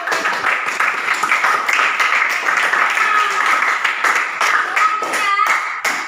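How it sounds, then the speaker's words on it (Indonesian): Clapping from a class or audience during an Indonesian geography lesson, steady and fairly close, with a faint voice or tone in the background. "Tepuk tangan."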